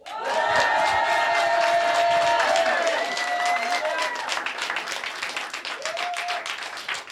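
A crowd cheers and claps loudly, with whoops and shouts over a dense wash of applause that thins slightly toward the end.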